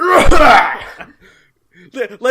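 A voice imitates a short, muffled cough, loud and close, followed by brief talking.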